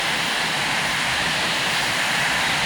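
Water rushes over an old stone mill dam by a bridge on Slate Hill Road, a loud, steady, broadband roar that stays unbroken and close throughout.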